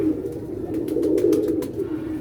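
A Lakha Parwazi pigeon coos in a low, continuous rolling murmur, close and steady, with faint clicks and rustles above it.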